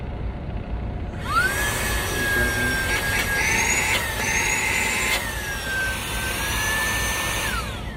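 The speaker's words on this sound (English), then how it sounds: "Here it's a vacuum." A Saker 3-in-1 portable cordless vacuum cleaner starts up and runs with a loud, high-pitched motor whine that shifts pitch midway, then winds down at the end, heard close up with no talking.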